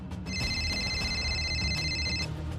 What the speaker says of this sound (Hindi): उसका फोन बजने लगा